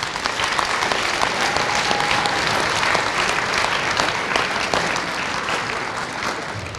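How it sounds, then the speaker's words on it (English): Warm applause from a school event audience for distinguished guests in the front row, a full, continuous wash of clapping from a large crowd that stays loud and steady before easing slightly at the end. "I want to give a round of applause to our distinguished guests here in the front row"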